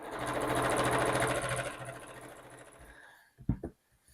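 A sewing machine quilts foam-backed fabric panels for a book sleeve, running in a loud, steady rapid stitching rhythm for about three seconds, then stopping, followed by a couple of brief clicks and knocks.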